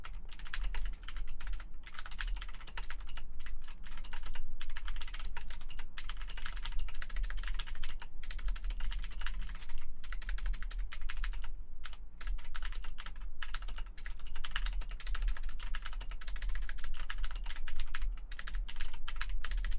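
Steady, rapid typing on a computer keyboard, close and continuous for about twenty seconds with brief pauses between bursts of keystrokes, and no voices.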